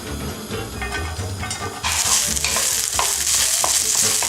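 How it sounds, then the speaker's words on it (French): Onions in a drizzle of olive oil sizzle and get stirred in a pan, a quieter crackle that jumps to a louder, brighter frying hiss partway through, with utensil scrapes and no talking. "on va faire revenir les oignons et on va mettre un filet d'huile d'olive"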